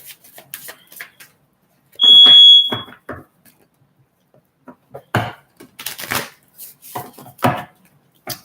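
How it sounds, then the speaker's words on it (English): A household smoke alarm that needs repair gives one loud, piercing high-pitched chirp, surrounded by quieter clicks, taps and scattered knocks in a quiet room. "That's just my smoke alarm."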